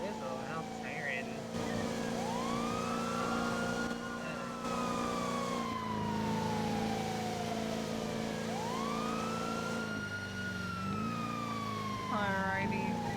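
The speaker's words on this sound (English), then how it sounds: "I can't do much about the sirens, I'm sorry." Emergency vehicle sirens in GTA V on the NoPixel roleplay server wail in long rising and falling sweeps over steady engine hum, loud and continuous throughout, with a voice speaking briefly over them.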